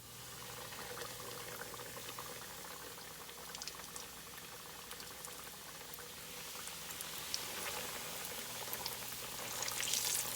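Pork chops sizzle and crackle in hot frying oil, a steady bubbling hiss throughout with a faint low hum underneath, building slightly louder toward the end.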